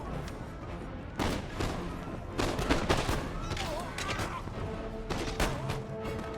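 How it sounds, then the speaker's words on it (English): Bursts of crackling musket volley fire in the video game Empire: Total War ring out repeatedly in uneven clusters, with rolling reports over a busy background of battle noise. "Give them volleys, boys."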